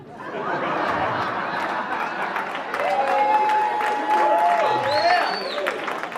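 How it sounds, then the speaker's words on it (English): A crowd at a sales speech cheers and applauds, a fairly loud wash of clapping with chuckles, chatter and a few whistles rising through it. "I don't know why you're cheering that."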